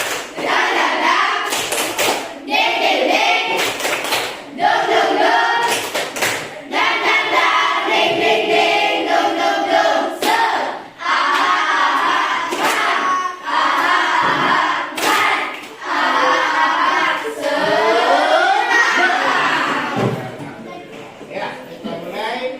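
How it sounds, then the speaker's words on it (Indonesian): A classroom of students performs a rhythmic clapping chant, bursts of sharp claps alternating with loud group chanting voices, repeated in patterned rounds throughout, close and lively. "Mari sama-sama kita tepuk semangat."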